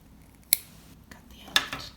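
Two crisp snips of scissors cut the end of crochet yarn, close and bright, about a second apart, with faint handling rustle between them in an otherwise quiet room.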